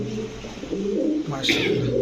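Pigeons, including fancy breeds such as Pakistani teddy and royal types, cooing in a rounded, repeated rhythm near the listener, with a louder coo burst midway over a steady low murmur and faint background voices at a pigeon sale.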